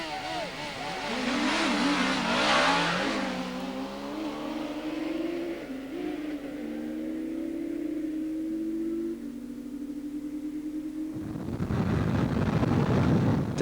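A heavy, high-horsepower motorcycle takes long, fast bends, its engine note climbing and shifting through the gears with steady wind rush. Near the end the roar swells into a broad, loud blast.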